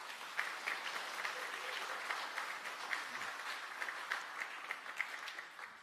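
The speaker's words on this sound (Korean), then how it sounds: "응원의 박수를 다시 한번 쳐드리겠습니다" A church congregation applauds together in a sustained, moderately loud round of clapping, individual sharp claps standing out over the dense wash of hands.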